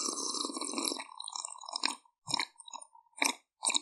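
Close, crunchy chewing and biting of a cookie, a steady crunching burst for about two seconds followed by several short separate chews with brief pauses between them.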